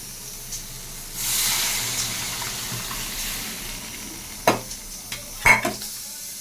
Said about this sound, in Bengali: মশলাটা বেশ ভালো করে কষানো হয়ে গেছে। মশলাটা আমি জল দিয়ে দিচ্ছি।